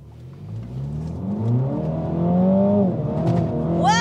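A MINI accelerating at full throttle on a road in Iceland, the engine climbing steadily in pitch and loudness from inside the cabin, a rising whine that builds over several seconds.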